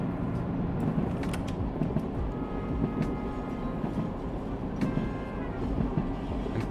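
A diesel railcar in a British countryside train simulator game accelerates with a steady engine drone and repeating rail clicks underneath, continuous and moderately loud, with no talking.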